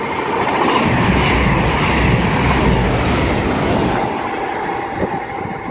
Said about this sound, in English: passing through now is going to be 1 Victor 5-8 from Glasgow to Penzance.